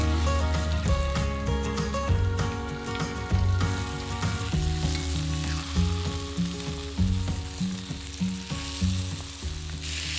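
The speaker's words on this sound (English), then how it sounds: "Place the chicken in the pan and fry on both sides until golden." Chicken breasts, dipped in egg and dredged in flour, frying in olive oil in a pan: a steady close sizzle with occasional clinks over a background of music, and no talk.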